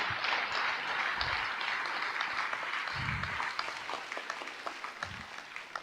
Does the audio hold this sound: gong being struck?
no